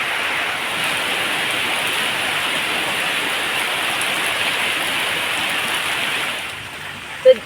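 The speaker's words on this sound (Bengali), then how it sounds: "দেখুন বন্ধুরা প্রচুর পরিমাণে কিন্তু বৃষ্টি চলে এসেছে আমাদের দিকে" Heavy rain pours down in a dense, steady hiss that fills the air, easing slightly near the end.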